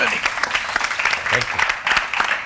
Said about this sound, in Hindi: सो प्लीज वेलकम, भरपूर तालियों में मैं खड़े होकर इस्तकबाल करना चाहूंगी बहरोज सब्ज़वारी।